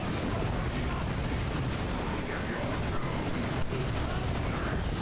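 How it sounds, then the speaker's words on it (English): Grenade explosions in the strategy game Warhammer 40K: Dawn of War 2 Retribution, heard as a dense, continuous roar of blasts and rumbling battle noise with clattering mechanical sounds layered throughout. "It's raining grenades!"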